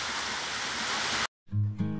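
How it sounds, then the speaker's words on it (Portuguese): Light rain falling at a rural smallholding in Brazil's northeast, a steady broadband hiss that runs evenly, then cuts off abruptly and gives way to other low, tonal sounds near the end. "nesse instante chegando uma chuvinha aqui no Sítio Passagem"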